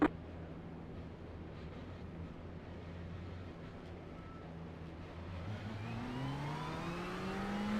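Ferrari 488 GTE race cars accelerate away at a Le Mans race start, a steady engine drone that climbs in pitch and swells in loudness toward the end, heard from inside the car.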